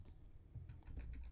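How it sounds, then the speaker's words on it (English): Typing on a computer keyboard while entering code, heard as a short, quiet run of soft clicking keystrokes with no talking. "let's check some basic information about our data set by typing"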